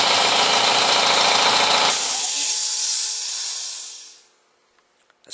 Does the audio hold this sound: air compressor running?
yes